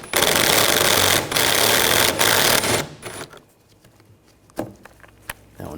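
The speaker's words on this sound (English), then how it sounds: "Now we're going to remove the fan assembly, use a 10mm socket," A 10mm socket wrench rattling out radiator fan assembly bolts on a 2013-2022 Buick Encore 1.4L, loud rapid ratcheting bursts followed by quieter clicks and clanks of tools and parts.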